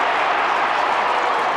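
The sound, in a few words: football crowd cheering, St Kilda v Footscray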